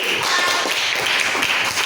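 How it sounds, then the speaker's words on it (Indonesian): Students in a classroom clap their hands together for a classmate, a dense steady burst of applause lasting a couple of seconds, close and fairly loud with no talking. "Tepuk tangan buat Bang Abi"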